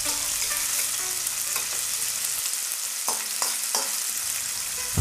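Onions sauté in a pan ahead of browning beef, a continuous moderate sizzle punctuated by several sharp scrapes and taps of a spoon stirring against the pan, with no talking.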